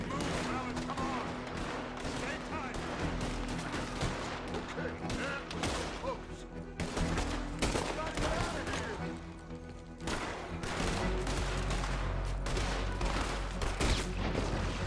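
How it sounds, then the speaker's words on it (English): Gunfire in Red Dead Redemption 2 on Xbox One: rapid volleys of gunshots and bursts crack one over another for the whole stretch, loud and dense, with a voice faintly underneath. "Oh, looks like I can do shooting."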